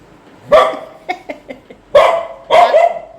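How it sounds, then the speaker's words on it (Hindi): A dog barks loudly and close by in a home, four sharp barks with a few shorter yips between them, alone without talk. "बावरो कुत्ता है कतई"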